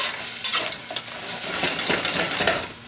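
Lobster Cantonese frying in a pan, a steady broadband sizzle with scattered clinks and scraping of a utensil against the pan, close and continuous with no talking.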